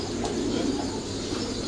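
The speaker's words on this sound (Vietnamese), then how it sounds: "Coi hai con bồ câu lên." Pigeons coo softly and steadily at close range, a low continuous murmur of calls from a pair of birds with a faint rustle of movement.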